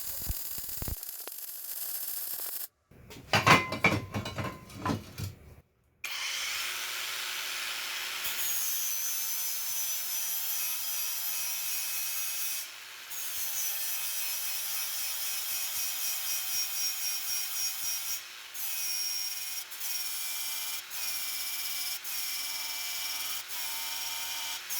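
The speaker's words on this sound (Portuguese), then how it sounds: "Lixou tranquilo os cordões de solda." A cordless brushless three-speed angle grinder on a 4 Ah battery sanding down weld beads: a steady, loud high whine with abrasive hiss runs for long stretches, broken by a few short pauses and one rougher clattering burst near the start.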